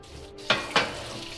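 Fish sizzles in a pan with a steady soft hiss, broken by two sharp bursts of louder spitting and crackling close by.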